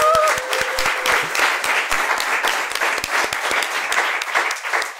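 Steady applause from a crowd, dense clapping throughout with a few sharper individual claps standing out.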